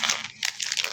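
Dairy Milk Silk chocolate wrapper torn open and crinkled, with short bursts of close, crisp plastic rustling and crackling and a brief pause midway. No one speaks.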